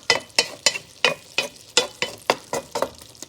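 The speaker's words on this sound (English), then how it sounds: "And to the hot ghee, I've added cumin seeds." Cumin seeds, fenugreek and garlic cloves sizzling in hot ghee, with a rhythmic series of sharp stirring scrapes, about a dozen, over a steady close frying hiss.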